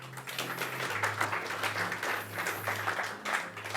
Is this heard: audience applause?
yes